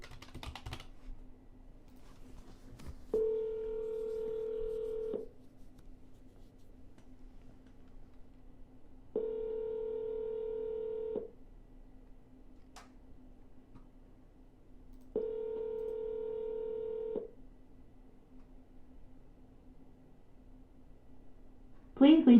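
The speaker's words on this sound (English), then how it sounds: "I'm going to double dial." Telephone tones while calling a property seller: three even ringback tones of about two seconds each, repeating every six seconds over a faint steady line hum.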